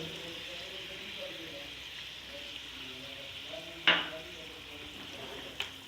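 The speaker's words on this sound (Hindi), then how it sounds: "अच्छी तरह मैं दही के साथ इसको भून रही हूँ।" Nihari masala and yogurt sizzle softly in a pan for chicken nihari, a steady quiet hiss broken by a sharp utensil clink about two-thirds through and a fainter one near the end.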